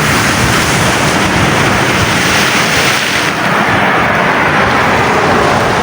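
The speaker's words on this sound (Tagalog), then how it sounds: "lalaki ng alon" A steady, loud roar of surf fills everything at night on the Corniche seaside in Jeddah, with waves crashing continuously and a slight drop in the hiss partway through.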